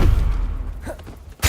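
A Confringo explosive curse from the Hogwarts Legacy video game, a dense rumbling blast that fills the moment and ends in a sharp, loud burst at the very end.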